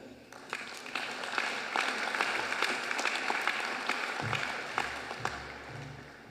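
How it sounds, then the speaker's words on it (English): An audience at a university graduation and chancellor investiture ceremony in Sydney claps continuously for several seconds, a dense even wash of hands with some louder individual claps standing out, filling a large hall. "Another round of applause."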